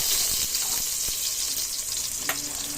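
Garlic frying in a hot cooking pot, a steady loud sizzle with a few scraping stir clicks, close up and without talking.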